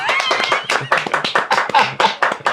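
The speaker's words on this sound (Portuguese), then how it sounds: "a gente tá aqui com o André Américo, salva de palmas, produção." A small group claps close by, irregular bursts of hand claps with a few brief voices mixed in.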